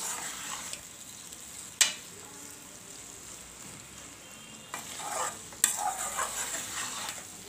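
Chana dal being stirred with spices in a frying pan, a soft sizzle underneath sharp spoon scrapes and clinks against the metal, one near the start and a cluster toward the end.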